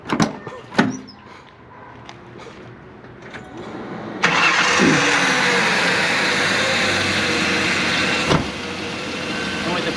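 A V6-swapped 2004 Ford Ranger engine cranks and catches, then settles into a steady, loud idle that rumbles on before a sharp click cuts through.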